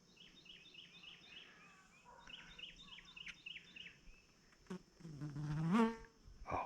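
A honeybee buzzes close by while stretching its back legs before taking flight near a hive, a steady insect drone with a louder, rising swell toward the end.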